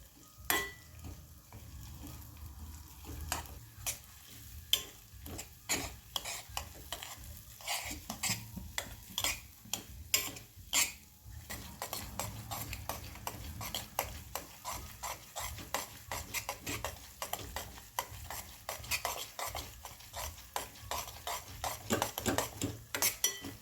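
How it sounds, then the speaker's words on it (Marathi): Semolina being stirred and roasted in ghee in a pan for sheera, a steady run of scraping, clinking utensil strokes over a soft continuous sizzle, close and moderately loud with no talking. "तुपामध्ये रवा सोडायचा रवा मस्तपैकी गुलाबी सर्व होईपर्यंत परतून घ्यायचा तुपात"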